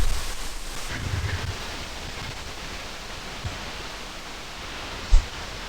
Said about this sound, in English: You can really feel the wind and the power of that waterfall.